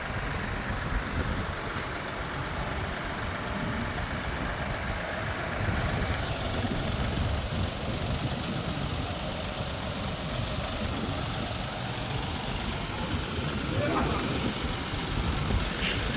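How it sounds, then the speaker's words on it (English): A Kioti DK5320 tractor with fluid-filled rear tires idles while lifting a pallet of net wrap, giving a steady, fairly quiet low engine rumble that continues unbroken with faint background noise. "a DK5320 Kioti lifting a pallet of net wrap at an idle"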